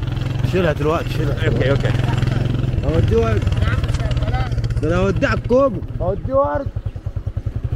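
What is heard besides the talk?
motorcycle ride in Egypt, riding on the back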